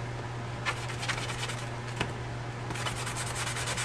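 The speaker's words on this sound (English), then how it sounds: "with a sanding block" Repeated rubbing strokes of a sanding block roughening a card, a steady close scratchy texture with several distinct passes over a constant low hum.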